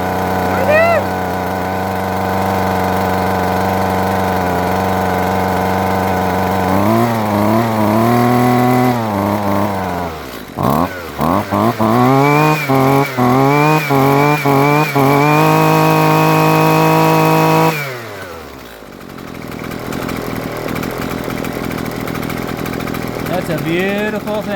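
A Husqvarna 128LD string trimmer with freshly replaced fuel lines starts up and runs loud and close, its two-stroke engine revving up and down repeatedly before settling to idle, then cutting off.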